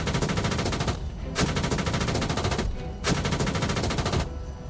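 Machine gun in a military combat video game firing at moving targets, three long sustained bursts of rapid loud shots separated by short pauses, no talk.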